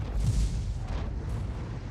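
Tank cannon fire in World of Tanks, a heavy booming blast that blends into a dense, rumbling battle din, staying loud and steady for the whole stretch without a clearly separate crack.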